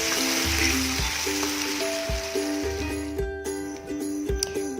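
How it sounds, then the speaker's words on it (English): Onions with chopped ginger and garlic sizzle in hot oil while being stirred, a steady close frying hiss broken by faint metallic clinks and tonal ringing from the pan, with no talking. "I have added around 3 onions, some chopped ginger garlic, and stir them continuously until these are cooked very nicely."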